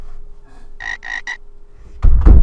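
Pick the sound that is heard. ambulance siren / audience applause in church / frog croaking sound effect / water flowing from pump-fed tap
frog croaking sound effect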